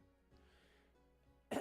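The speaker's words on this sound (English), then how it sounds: "I'm sorry, I had to clear my throat constantly." A single sharp throat clearing bursts out at the very end, close and loud after near silence.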